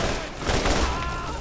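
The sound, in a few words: Ajax's Spear Atlas combat rifle firing in Borderlands video game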